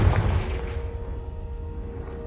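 Spell blasts from the Confringo curse in the Hogwarts Legacy video game: a heavy booming burst up front, then a low, rumbling roar of explosions and crackle that carries on steadily to the end, with no talking.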